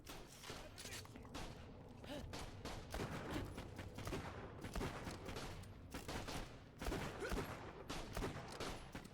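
Jakobs pistol fire in Borderlands: The Pre-Sequel, rapid loud cracking shots mixed with other gunfire in a dense continuous firefight, with game speech or effects under it.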